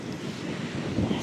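Wind buffets the microphone on a deserted beach, with a steady low rumble and broadband rush carried along by surf noise, loud and constant throughout with no talking.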